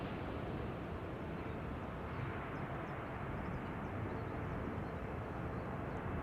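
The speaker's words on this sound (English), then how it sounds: "For a moment it was sounding like they were applying reverse thrust" A KLM widebody airliner landing at Amsterdam Schiphol, a loud, continuous broadband jet roar that holds steady throughout, with possible light reverse thrust and no voices.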